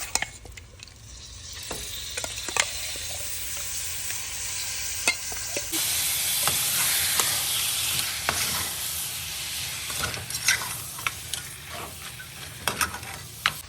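Loud, continuous sizzling of mutton frying in a hot pan of spiced masala for Tamil mutton kulambu, with repeated scraping and stirring clatters throughout.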